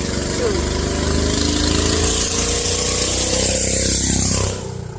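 A loud engine runs steadily close by, the throaty drone ending in a drop near the finish as the vehicle moves off.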